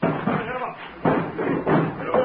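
Several men rush and break in a door, giving a series of heavy slams and thuds roughly every half second, with shouting voices over them.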